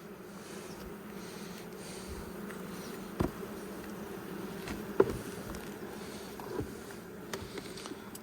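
Honey bees buzz steadily at an open hive, a close, continuous drone with occasional louder passes and faint ticks and taps of hive work.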